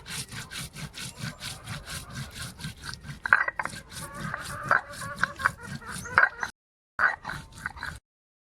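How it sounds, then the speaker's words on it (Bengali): Cumin seeds being ground on a grinding stone with repeated rhythmic rubbing and scraping strokes, close and fairly loud, with a few brief pauses near the end. "এবার জিরে বেটে নেব"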